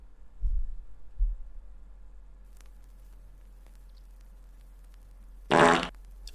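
A single loud, sharp fart bursts out near the end, preceded by a couple of low muffled thumps over a quiet background hum, close and with no talking.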